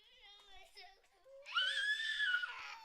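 A young child cries and screams, starting with whimpering, wavering sobs and then breaking into a loud, sustained high-pitched wail that lasts to the end, close to the listener with no other voices.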